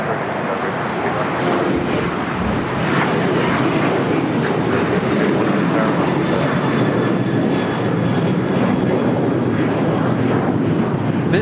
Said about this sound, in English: This takeoff is Delta Airlines 615, taking off to Cancun on the 737-800.